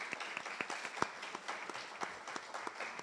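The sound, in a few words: audience applause at a meeting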